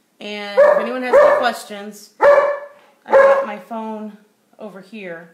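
A pet dog barks repeatedly in a kitchen, loud and fairly close, several sharp barks in bursts with a short whine, while someone speaks over them.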